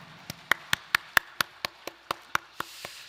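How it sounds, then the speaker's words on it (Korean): Scattered, uneven hand claps from a small church congregation during a Sunday worship service, about a dozen sharp separate claps spread over three seconds in a quiet room, with no talking. "영광의 박수 올려드리겠습니다."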